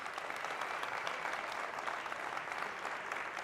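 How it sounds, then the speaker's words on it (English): A crowd claps steadily for basketball players at a training conference, dense even applause holding at a constant level from start to finish with no voices over it. "let's give these guys a big round of applause"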